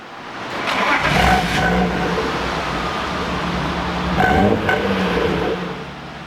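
A warm 1993 BMW 325i E36 coupé engine runs at a steady idle, rising into two short revs partway through, close and fairly loud with no talking.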